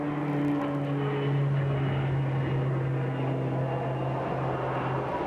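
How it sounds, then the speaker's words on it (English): A twin-engine Beechcraft propeller plane passes overhead, giving a steady droning hum with a slowly shifting engine tone that fills the whole stretch at moderate distance. "There's an airplane going by now. Looks like a twin-engine Beechcraft."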